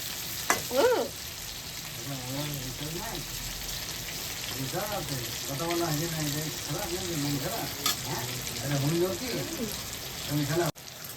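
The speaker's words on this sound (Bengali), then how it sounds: "এটা এবার একটু ভাজা হোক, একদম সুন্দর করে ফ্রাই হোক" Chicken pieces fry in plenty of hot oil for chicken chilli, a continuous crackling sizzle with occasional stirring while a person talks over it.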